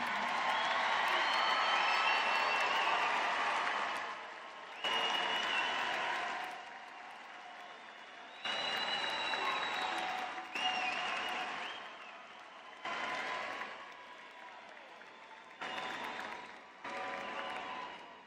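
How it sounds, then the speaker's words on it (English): Graduation audience at a Florida State University spring commencement breaks into applause and scattered cheers, swelling loud at first, then coming in several shorter bursts separated by quiet gaps in a large hall. "and salute them with your applause"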